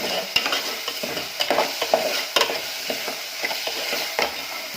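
Onions fry in oil while a spatula scrapes and stirs them, giving a steady close sizzle broken by regular scraping strokes and light knocks against the pan.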